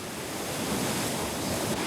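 Rough sea surf crashes continuously along a coastline, a dense, loud roar of breaking waves mixed with wind noise on the microphone, with no voices.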